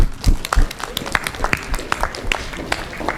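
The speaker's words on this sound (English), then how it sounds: "Give them a round of applause as well" Live audience at a public policy research event breaking into a short burst of applause, scattered claps rising and fading over a few seconds, fairly close, with some voices mixed in.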